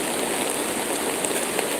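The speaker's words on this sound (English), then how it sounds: "Look at that waterfall." Steady, loud rushing roar of water from a waterfall beside a bridge at a historic site in the western region, a continuous broadband wash with no breaks.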